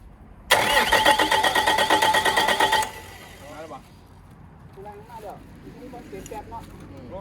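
A Caterpillar 320D excavator engine cranks loudly and close by for about two seconds after rebuild work, then the roar cuts off and quieter background sound follows, with people talking.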